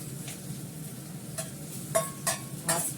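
Soft sizzling of fenugreek leaves in a little oil runs throughout, with a few light scraping stirs of a utensil against the pan near the end.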